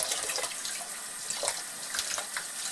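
Water poured into a pan while baking cupcakes from a mix, a steady soft splashing stream throughout, fairly faint.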